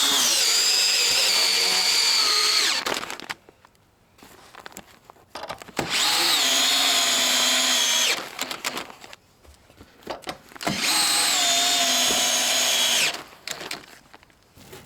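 Power drill driving fasteners to tie a bottom plate into a rim joist during a small trailer overhaul, three loud sustained whining runs, each several seconds long, separated by quieter handling and clunks, close and without talk.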